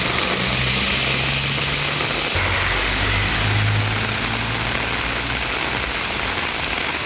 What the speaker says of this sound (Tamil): மாவட்டத்தில் 1 மணி நேரம் கனமழை கொட்டியது